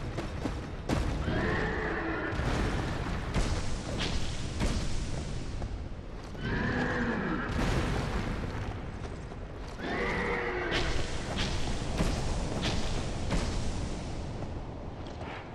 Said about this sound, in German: jetzt kommt da so ein Pferd